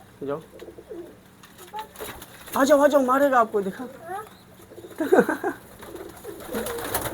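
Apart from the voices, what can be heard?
pigeons cooing in loft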